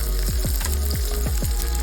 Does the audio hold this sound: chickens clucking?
no